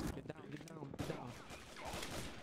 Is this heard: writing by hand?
no